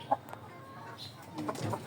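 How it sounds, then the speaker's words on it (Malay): A shamo crossed with aseel chicken gives a sharp, loud clucking call near the start, followed by quieter farmyard rustle and low background noise. "Dengar kan yang bunyi kuat tadi yang ayam ni lah"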